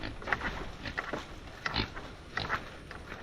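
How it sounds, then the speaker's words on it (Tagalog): A pet pig in a forest area grunts in soft, short bursts against steady outdoor background noise, with no talking. "Ang pala ang ating alagang baboy."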